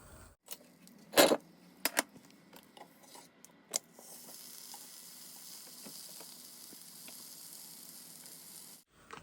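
A frozen paratha lands on a hot tawa, starting with a few clinks and handling clatters, then settling into a steady, close sizzle that runs for several seconds before cutting off.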